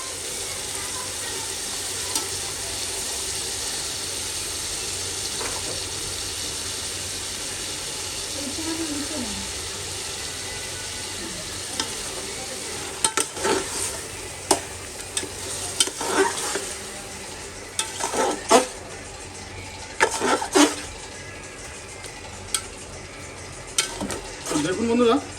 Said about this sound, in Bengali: তো এটাকে মোটামুটি ভালো মতো আমি কষিয়ে নেব।